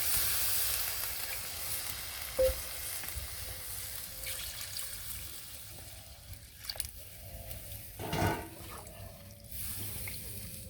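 Spice paste with green chilies fries in a pan over a clay stove in a Bangladeshi village kitchen, giving a continuous close sizzle with a few brief stirring scrapes and clinks; no talking is heard.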